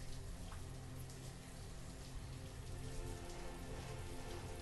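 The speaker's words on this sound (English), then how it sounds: "it's raining and it's difficult to see anything" Steady rain from the video game Banished, a dense, even hiss of drops falling on surfaces that stays loud and unchanging from start to finish, with no voices.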